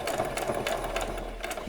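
A sewing machine runs a short back stitch on small doll jeans, a close, quick rhythmic whirring and ticking of the needle mechanism over a low motor hum.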